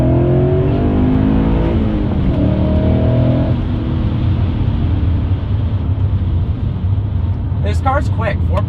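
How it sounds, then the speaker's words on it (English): A loud, naturally aspirated 4.9 liter V8 in a BMW E39 M5 with a muffler delete accelerates hard through second gear, deep rumbling harmonics filling the clip, with some talk mixed in. "This specific vehicle has a muffler delete, which, throw it in second here"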